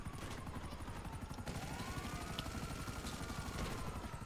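A steady helicopter rotor thrum chops continuously, with a sweeping whine passing through the middle of the game sound.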